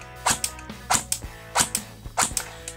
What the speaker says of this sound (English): So I'm going to do some semi-auto.